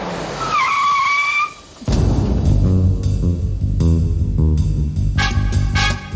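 A car turns sharply with a loud, drawn-out tire squeal, then a short pause before a heavy engine roar and rumbling road noise carry on, close and loud, with no talking.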